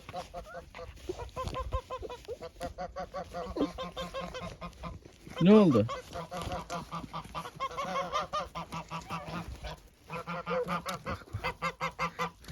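Geese honking repeatedly through the clip, one louder nearby honk standing out, with people talking over the birds.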